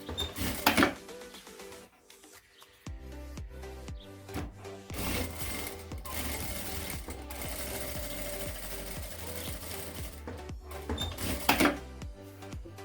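A sewing machine topstitches across two layers of fabric while a wallet is being sewn, its needle mechanism whirring in steady rhythmic bursts with brief pauses and clicks between runs.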